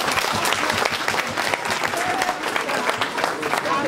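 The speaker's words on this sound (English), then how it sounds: "Let's give them a clap," An audience at a celebration breaks into dense, sustained clapping, a loud continuous patter of many hands that holds steady from start to finish.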